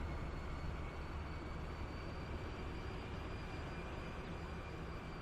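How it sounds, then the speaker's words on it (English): A train rolling along in Transport Fever 2 on a UK line: a faint, steady rumble with a constant low drone and faint high whine, unchanging over several seconds, with no talking. "You're the train that goes to Glasgow."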